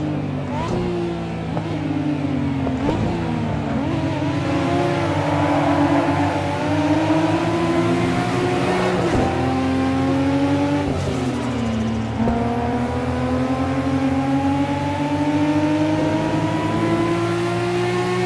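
In Assetto Corsa, a race car engine at full speed screams loud and continuous, its pitch climbing and dropping through several gear shifts, with no talking.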